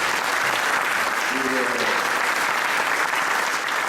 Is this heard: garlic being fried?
no